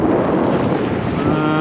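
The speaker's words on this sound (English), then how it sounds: "We have wind now." A strong, steady roar of wind at sea buffets a solo sailboat nearing Madeira, dense and loud throughout with a hint of water and hull rumble beneath.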